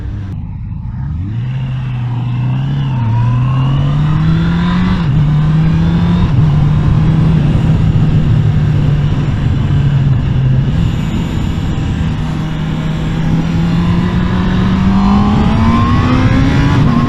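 Honda CB650R 2022 motorcycle with a liquid-cooled 649 cc engine revs loud and close, its pitch rising and dipping through sustained throttle in one long continuous pull.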